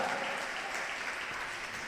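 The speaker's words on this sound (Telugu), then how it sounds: "గట్టిగా చప్పట్లు కొట్టండి, గట్టిగా హల్లెలూయా, గట్టిగా." Congregation in a church service clapping loudly together, a dense continuous wash of many hands that fills the room, steady and close throughout the short burst with no talk over it.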